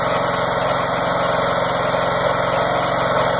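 A small engine fed by a charcoal gasifier runs steadily and loudly, a continuous idling drone with a dense, even vibration and no change in pace, heard up close with no talking.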